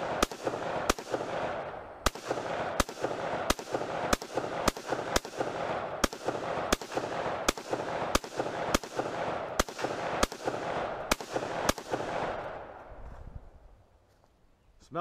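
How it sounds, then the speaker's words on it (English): Rapid, evenly spaced gunshots fired at a metal target frame, about twenty sharp loud reports in a steady rhythm with ringing between them, stopping near the end into quiet. "not necessarily mag dump, because I am going to be like spreading out as much as I can, so it's not going to be that fast rate of fire"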